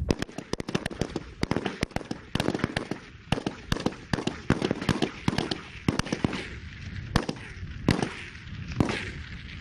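MPT-76 infantry rifles firing on a military range, with many sharp shots cracking in quick, irregular succession, some single and some in rapid clusters, moderately distant.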